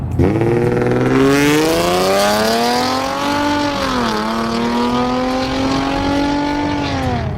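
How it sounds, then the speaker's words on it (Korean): A Nissan Skyline V35 naturally aspirated VQ V6 engine with a Fujitsubo exhaust revs up and holds a smooth, steady drone, its pitch rising then dipping slightly, loud and close, with a rich exhaust tone. "지금도 배기음은 안 나는데 엔진 음색은 정말 좋다."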